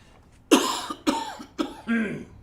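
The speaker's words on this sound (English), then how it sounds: "I'm going to cough now." Four harsh coughs in close succession, close and fairly loud, the last one a rougher throat-clearing hack, with no talking.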